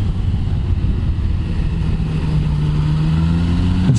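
A 2019 Yamaha MT-09 motorcycle engine pulls hard under acceleration, a loud continuous drone whose tone climbs steadily as it revs, heard close up over wind rush.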